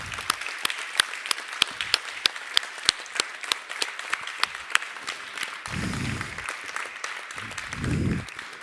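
Scattered, close individual handclaps from an audience at a finance and climate conference, sharp distinct claps over a steady clapping bed, with a couple of brief low voice bursts partway through.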